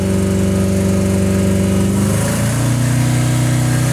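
A car engine runs at a steady 4000 RPM, a loud and continuous close-up drone whose pitch shifts slightly partway through, with no voices.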